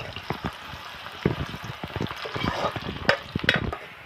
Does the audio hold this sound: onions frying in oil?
yes